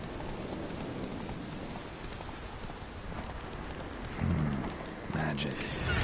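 Hooves of the horse Roach in The Witcher 3 video game clip-clop in a fast, steady galloping rhythm throughout, with a brief snort or whinny near the end and a soft rain-like background wash.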